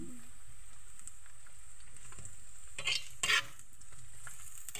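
Lemongrass dropped into a pan with browned beef skin gives a steady soft sizzle, broken by two louder bursts of crackling as it hits the hot fat, with faint stirring and no talk.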